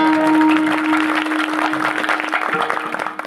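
A kirtan crowd claps hard and steadily after pakhawaj drumming, a dense wash of applause that holds for several seconds before tapering slightly at the end.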